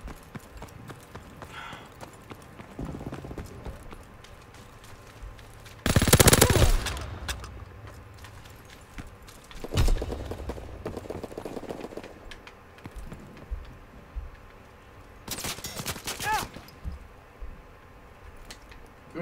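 Gunfire from a Soviet gun in a video game: a few loud, broadband bursts of shots spaced several seconds apart, each short and sharp over a low, steady game background with no talk.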